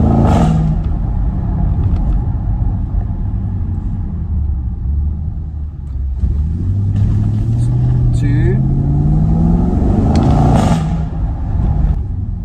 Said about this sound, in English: I can hear that supercharger whining.